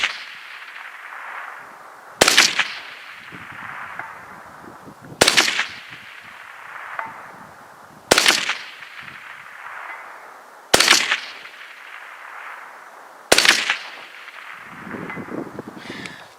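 Five sharp, loud bullpup rifle shots at steel targets, spaced about every two to three seconds, each with a ringing decay and echo trailing behind, outdoors at a range.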